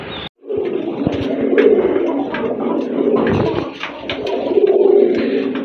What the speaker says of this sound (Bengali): চলেন আপনাদেরকে কবুতরগুলো দেখায়